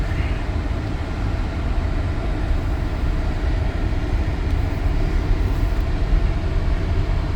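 A 2018 Chrysler Pacifica Touring minivan rolls around a block, its steady low road rumble and tire noise filling the cabin at an even level, with no talking.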